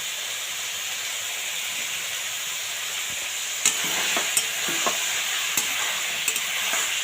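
Mushrooms hit a hot pan with carrots, beans and peas for pasta, giving a loud, continuous hissing sizzle; in the second half, sharp clicks from stirring break through at irregular moments.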